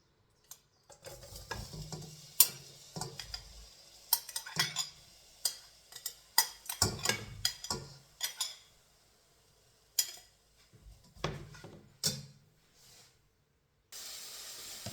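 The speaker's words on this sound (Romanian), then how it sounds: "Am să pun la prăjit, la călit ceapa." Onion sautéing in a pan hisses and sizzles while a utensil stirs and scrapes, giving irregular clattering knocks over a soft frying hiss, close up with no talking; a brief louder sizzle burst comes at the end.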